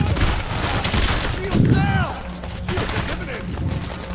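Shotgun fire in the video game PAYDAY: The Heist, dense overlapping bursts of game gunfire throughout, loud and continuous, with a voice talking underneath.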